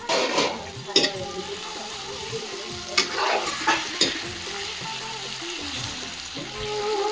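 Meat sizzles in a pan while being stirred, a steady frying hiss broken by repeated scraping and clanking strokes of the spoon, close and fairly loud.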